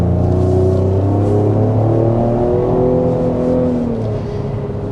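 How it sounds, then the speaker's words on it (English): Road noise fills the cabin of a 2025 Ford Explorer driven around corners on a back road, a steady low drone with a faint engine whir and no talking. "I do hear a little bit of road noise."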